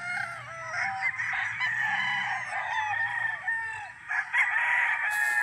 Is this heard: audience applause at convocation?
no